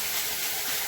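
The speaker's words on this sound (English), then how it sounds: "Lots of sizzling going on in the background." A constant hissing sizzle of leftovers and produce frying in a pan fills the short stretch evenly with no voices.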